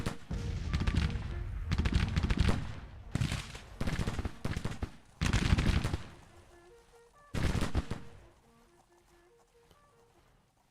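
Civil War artillery and musket volleys in the strategy game Grand Tactician, with several heavy booming bursts spaced a second or two apart, then a quieter rumbling tail and faint tonal battlefield sounds.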